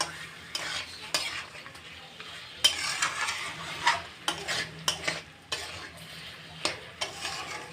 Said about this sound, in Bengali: আবার নেড়ে নিচ্ছি।